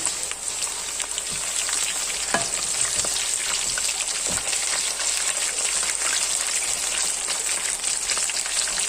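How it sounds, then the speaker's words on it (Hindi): Spiral-cut potatoes coated in cornflour deep frying in hot oil, a steady dense crackling sizzle throughout with a few sharper pops, close and fairly loud, with no talking. "अब जो मैंने इस क्यूबर के साथ आलू लगाए हुए थे अब मैं वो फ्राई कर रही हूँ।"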